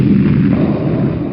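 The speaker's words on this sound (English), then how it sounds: "that is explosion" Explosion sound effect from a PowerPoint slide transition: a dense, rumbling low-heavy burst that stays loud and sustained across the short clip with no clear sharp onset, fading slightly at the end.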